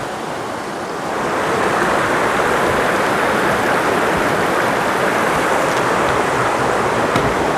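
Steady broadband rush of a river flowing beneath a footbridge on the Appalachian Trail in Pennsylvania, rising after the first second and then continuous and fairly loud, with no voices.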